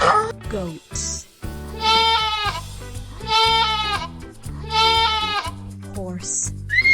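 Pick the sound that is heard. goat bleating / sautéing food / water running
goat bleating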